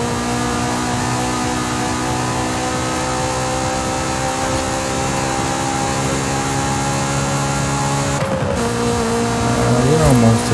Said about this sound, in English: Drifting. Don't trip this S2K.